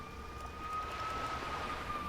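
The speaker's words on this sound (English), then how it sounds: "Seriously, sirens," Emergency sirens wail faintly outside, a thin steady tone drifting at a distance beneath a quiet background.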